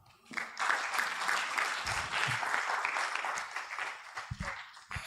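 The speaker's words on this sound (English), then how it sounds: "let's give him a better clap" An audience at a university academic conference claps in sustained, dense applause that swells quickly and holds steady before thinning out near the end.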